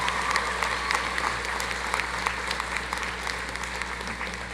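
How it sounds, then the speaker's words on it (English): An audience at a Roane State college commencement applauds the musicians with steady, moderately loud clapping across a large hall, over a low constant hum. "A round of applause, please, for our wonderful musicians."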